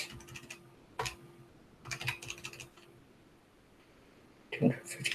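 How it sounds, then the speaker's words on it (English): Calculator keys are tapped to enter a percentage sum, giving a few quiet, scattered clicks in short clusters, close by and alone. "Let's type it in our calculator."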